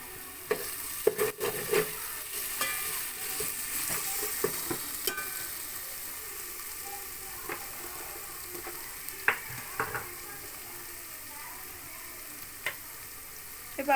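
Ginger garlic paste frying in a pan for mushroom biryani, a quiet soft sizzle with occasional scrapes and knocks of a spoon stirring, no voices.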